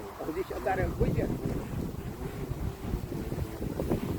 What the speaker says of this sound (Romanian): Bate vântul foarte tare, uite tare.